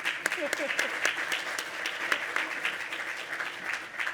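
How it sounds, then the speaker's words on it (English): An audience at a Veterans Day ceremony applauds, dense clapping with distinct individual claps up close, a few voices faintly mixed in beneath the steady ovation. "we can give her a round of applause"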